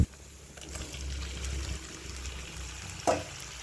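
Large prawns go into a cooking pan with soft sizzling and shuffling, a brief stronger splash or clatter near the end, fairly quiet with no talking.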